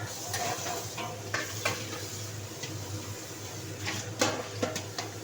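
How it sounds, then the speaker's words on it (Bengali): Prawns frying in a pan give a steady close sizzle, with stirring scrapes and a few sharp clinks of utensil against metal scattered across it. "চিংড়ি মাছটা ভাজা করি।"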